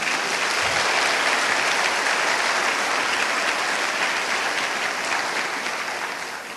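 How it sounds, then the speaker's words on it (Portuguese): A church congregation applauds during a worship service, a steady, loud wash of many hands clapping together that holds evenly throughout and only eases slightly at the very end. "Você pode aplaudir o Senhor?"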